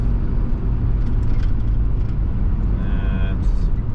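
A 1995 Nissan Pathfinder 4x4 SE cruises in fourth gear, with a steady, close engine and road drone filling the cabin.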